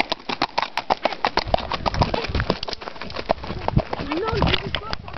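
A horse gallops beside a fjord, its hooves beating in a quick, steady, close-up rhythm while a voice talks over it.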